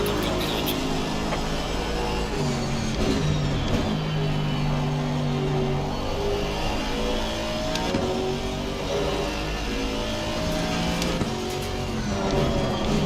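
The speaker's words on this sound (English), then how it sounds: "Faster car coming up behind you." GT race cars at Donington in Assetto Corsa Competizione roar past with loud, sustained engine drones that rise and fall in pitch as several cars accelerate and shift, overlapping into a dense continuous wall of engine noise.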